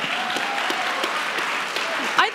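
A church congregation on Legacy Sunday claps for a member being introduced, a sustained broad patter of many hands with a few louder claps standing out and a brief voice near the end.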